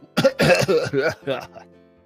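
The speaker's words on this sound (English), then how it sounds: "more coughing." A run of several harsh coughs in quick succession, close and fairly loud, trailing off into a softer throat-clearing sound at the end.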